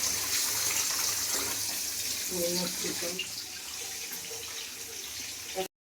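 Running tap water streams steadily into a kitchen sink as vegetables, bottle gourd stems and coriander leaves, are rinsed, with a continuous close hiss and occasional clinks of handling.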